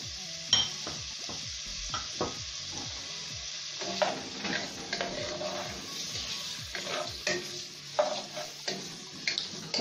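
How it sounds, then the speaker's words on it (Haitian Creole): Hot dogs frying in oil in a pot, with a steady sizzle under repeated clinks and scrapes of a utensil stirring against the pot, close and fairly quiet, no talking. "Je vais mettre hot dog là bien frit."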